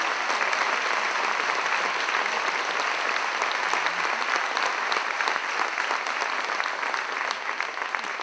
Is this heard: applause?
yes